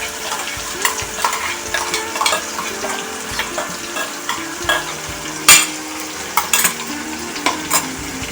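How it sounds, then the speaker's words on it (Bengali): A spoon scrapes and stirs onion paste, garlic, ginger and chili paste into fried onions for chicken bharta, giving repeated close scraping strokes over a constant frying sizzle, with no voices. "এবার আমি পেঁয়াজ বাটা, রসুন, আদা, লঙ্কা পেস্টটা দিয়ে দিচ্ছি।"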